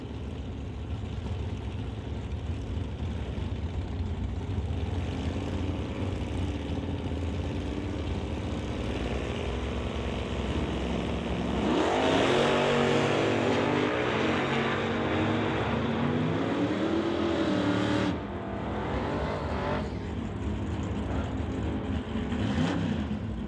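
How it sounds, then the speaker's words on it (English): Two cars launch in a drag race, a Dodge Demon against a Coronet, at a strip with a steady background rumble. A loud engine roar rises from the middle and climbs in pitch through the gears before cutting back. "Terry Kramer will bring up the Dodge Demon to race Barry Patterson in the Coronet"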